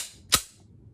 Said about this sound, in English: Then I'm going to smoothly press back, and the slide will cycle.